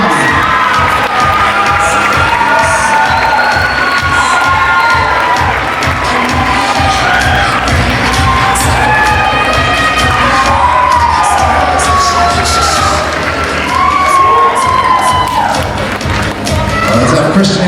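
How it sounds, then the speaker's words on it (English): A bodybuilding show audience cheers, whoops and claps loudly and continuously for a class winner, a dense crowd roar with shouting voices and an announcer talking over it. "Big round of applause for Sean."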